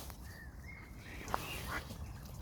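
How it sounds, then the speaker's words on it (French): A few faint quacks from ducks on a canal beside allotment gardens sound out at a distance over a quiet, hissing outdoor background. "Ah, ben, il y avait des canards."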